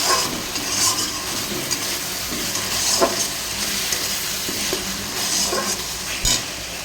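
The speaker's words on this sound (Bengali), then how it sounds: "আস্তে আস্তে কষে নিই" Meat being stir-fried with spices in a pan, giving a steady close sizzle throughout with occasional scraping stirs and brief louder spits.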